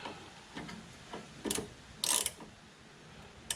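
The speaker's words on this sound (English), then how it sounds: "I'm going to get in there and use a 14 millimeter ratcheting wrench." A 14 millimeter ratcheting wrench loosening a rear brake bolt on a Nissan Rogue, giving a few close, quiet clicks and short metallic ratcheting bursts spaced irregularly, with no talking.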